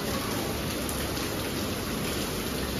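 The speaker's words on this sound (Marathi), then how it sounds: "पाऊस खूप जास्त आहे म्हणून आता आम्ही निघतोय" Heavy rain pours down steadily outside a poolside restaurant, a dense, even hiss of drops on surfaces with no voices.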